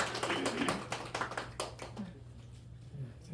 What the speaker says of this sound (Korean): 박수로 영광 돌립니다